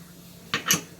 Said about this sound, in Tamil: பற்ற வச்சுட்டு குக்கரை அதில் வச்சுக்கலாம்